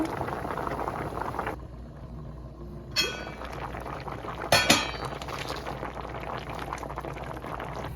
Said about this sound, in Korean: 고등어조림이 아주 맛있게 끓고 있네요.